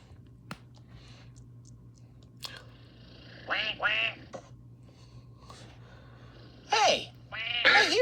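A duck quacks as a clue sound in a cartoon-style game, with short harmonic quacks in two clusters, middle and end, over a low steady hum and scattered clicks.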